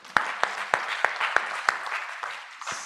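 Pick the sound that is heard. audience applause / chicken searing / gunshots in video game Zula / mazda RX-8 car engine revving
audience applause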